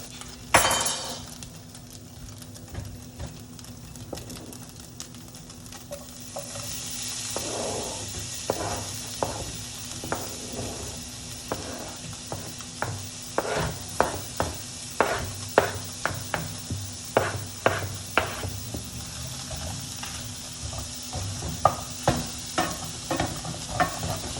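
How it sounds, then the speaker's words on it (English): Plant-based sausage and vegetables sizzle steadily in a frying pan while being cooking for vegan spaghetti, with repeated clinks and scrapes of a utensil stirring against the pan, growing busier toward the end. "I'm gonna go ahead and add in the other vegetables because, you know, this is a plant-based sausage, so it doesn't take long to cook."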